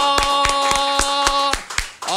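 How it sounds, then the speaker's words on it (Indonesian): Steady rhythmic hand clapping, about eight evenly spaced claps in two seconds, over a sustained musical tone on an Indonesian talk show discussing viral news. "Oke, tepuk tangan dulu dong."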